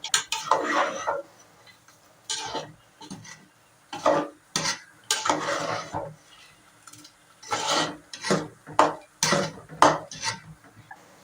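A spoon scraping and stirring tempered amaranth stem dal kootu in a pan in a Tamil home kitchen, irregular scraping strokes in short bursts with pauses between, close and moderately loud, with no talking.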